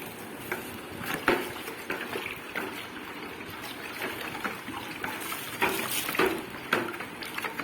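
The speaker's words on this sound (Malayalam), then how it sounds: "ഇതിനി നമുക്ക് ഒരു ബക്കറ്റിലോട്ട് ഒഴിക്കാം" A liquid mixture trickles and splashes as it is poured into a bucket and stirred, giving soft, intermittent sloshing with a few sharper clinks, close and fairly quiet.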